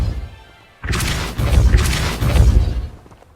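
The Repulsor spell going off in Hogwarts Legacy: a sudden booming, crashing blast that erupts after a short quiet and rolls on in heavy surges for a couple of seconds.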